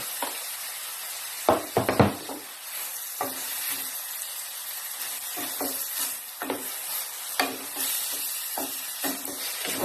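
Tomatoes sizzle as they sauté in a hot pan for beef caldereta, a steady frying hiss broken by the clacks and scrapes of a spoon stirring against the pan.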